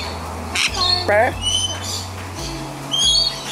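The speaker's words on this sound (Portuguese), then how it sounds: "Um passarinho muito lindo." A small bird in a park at Kuranda, Australia, gives sharp squawking calls with rising chirpy notes close by, while a person speaks briefly nearby.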